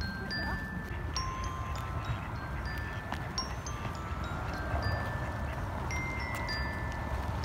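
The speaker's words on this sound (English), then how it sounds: "Oh, look at all them ducks." Ducks quack at a park pond while being fed bread, with scattered calls over steady outdoor background noise, wind and traffic hum throughout.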